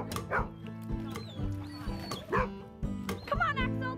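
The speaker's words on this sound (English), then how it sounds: "Nala, who on earth are you barking at?" A dog barks several times in short bursts, mixed with whimpers and yips, fairly close by, with a voice speaking briefly in the background.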